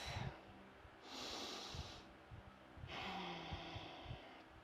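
Slow, deep breathing during a yoga session, with two long airy inhales or exhales about two seconds apart, close and soft over low background noise.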